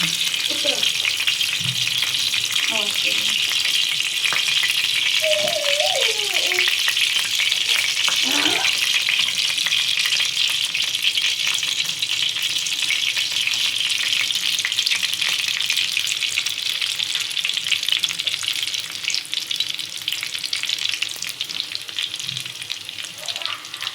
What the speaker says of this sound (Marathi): तर आपण आता ही भाजी आपण तेलात अशी परतून घेऊ.